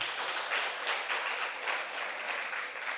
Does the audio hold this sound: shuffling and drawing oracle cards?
no